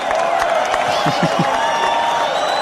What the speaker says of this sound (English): Crowd is too wild.